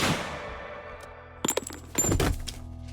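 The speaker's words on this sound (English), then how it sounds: "A gunshot is heard from outside the door." A single sharp gunshot from a pistol rings out from behind a closed door in a private quarters, followed by a second burst of impacts and rumble, set over a quiet room tone.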